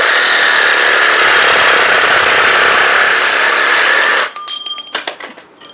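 A power saw fitted with a metal blade cuts through a pipe: a loud, steady buzzing whine runs for about four seconds, then cuts off, followed by a few sharp metallic clinks and knocks.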